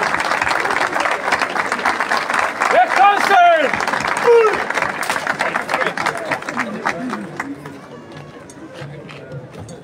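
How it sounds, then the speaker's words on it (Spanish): Outdoor crowd applauding at a town anniversary parade after a provincial police exhibition; sustained clapping mixed with crowd chatter and a whistling tone, gradually thinning toward the end. "Reiteramos el aplauso."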